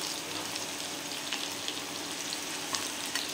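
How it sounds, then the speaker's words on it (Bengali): Sliced onions frying in a pan at a low, even sizzle, a soft continuous crackle with faint pops and no talking. "এবার দেখুন পেঁয়াজগুলোকে আমি অল্প অল্প করে ভেজে নেব।"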